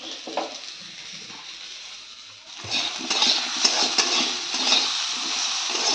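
Food fries in a pan with chilli added while being stirred, a steady crackling sizzle that swells louder halfway through, with occasional utensil clinks and scrapes against the pan.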